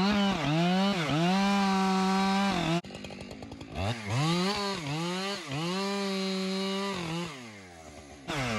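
Chainsaw cutting through large walnut timber, a loud, steady, close engine whine with pitch dips as the chain bogs into the wood, a brief drop near three seconds, then renewed cutting and a revving tail.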